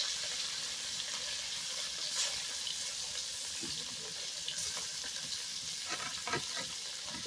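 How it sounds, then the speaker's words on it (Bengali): Fish pieces fry in hot oil in a pan over a firewood cooking fire outdoors in a village, giving a steady, dense sizzle throughout, with a few sharper crackles and spatters near the end. "মাছগুলো আগে আমি ভেজে নিই আপনারা দেখুন"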